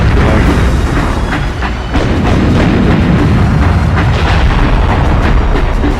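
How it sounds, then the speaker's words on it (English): Missile launcher explosions in the PS2 game Swashbucklers, a dense, continuous roar of loud booms and bursts that barely lets up, with no talk over it. "I mean, the missile launcher does some sort of damage"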